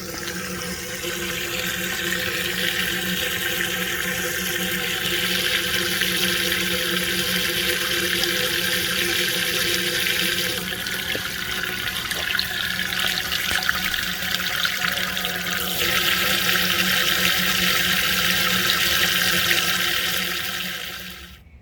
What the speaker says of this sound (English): If you listen closely, you can hear the sound change when the pump kicks on.